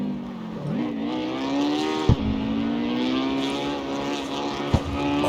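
A small car's engine in CarX Street revs steadily and climbs in pitch, with two sharp gear shifts breaking the loud, continuous drone.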